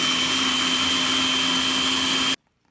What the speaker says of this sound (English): we're gonna blend our peppers with our garlic and onion and salt, and we wanna give it a good blending